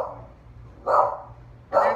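A dog barks nearby indoors, three separate loud barks spaced out over about two seconds with a faint low hum underneath.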